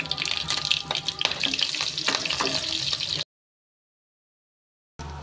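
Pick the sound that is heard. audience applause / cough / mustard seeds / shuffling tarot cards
mustard seeds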